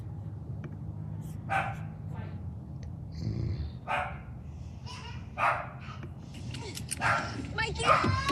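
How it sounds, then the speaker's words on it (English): A pet dog barks in a back room, with a few faint, scattered barks sounding behind steady close speech. "my dog is in the back, so hopefully y'all don't hear that"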